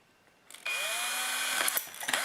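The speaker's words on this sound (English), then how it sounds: "Now I'm just going to drill a couple of little holes." A power drill boring a couple of small holes in a Tamiya model truck day cab, a steady close whine that starts abruptly after a quiet lead-in and runs on with small bumps of handling noise.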